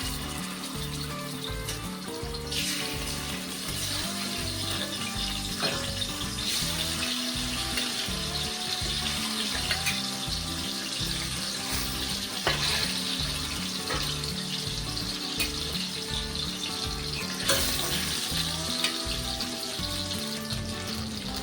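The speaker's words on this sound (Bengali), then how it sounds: "তেল গরম হয়ে গেছে লবণ হলুদ লঙ্কা মাছগুলো আমি দিয়ে দিচ্ছি" Katla fish pieces coated in salt, turmeric and chilli fry in hot mustard oil in a kadai. A continuous moderate sizzle holds steady for the whole stretch beneath background music, with no talking.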